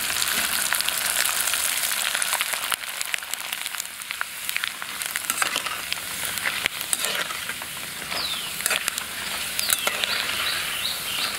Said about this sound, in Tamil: இந்த வடகத்தை இதிலே போட்டு வறுத்தெடுத்துறலாம்